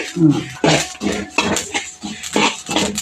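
Horse gram seeds dry-roasting in a pan, giving off bursts of crackling, clinking pops at fairly regular intervals, close and moderately loud, with no voices.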